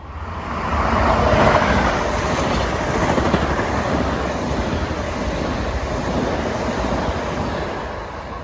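Steady loud rumble and rushing roar of an LIRR train from Ronkonkoma bound for Grand Central passing Forest Hills station in the morning rush, with faint wheel clatter and no voices.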